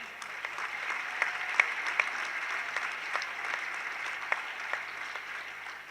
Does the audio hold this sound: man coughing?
no